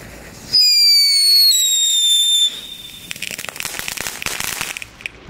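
Aldi consumer fireworks set off outdoors: a loud steady whistle lasting about two seconds, its pitch stepping down, followed by a burst of dense crackling pops that keeps sputtering to the end.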